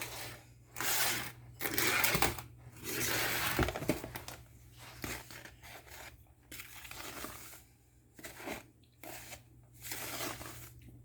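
Bath bomb powder being tossed and mixed in a bowl by hand, a soft irregular rustling and crunching in repeated bursts over a steady low hum, fairly close.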